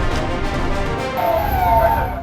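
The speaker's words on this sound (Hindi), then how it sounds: "इलाके में सायरन बज रहे हैं" Sirens wail over a steady roar of street noise in Meerut, India, rising tones sweeping in partway through, loud and continuous.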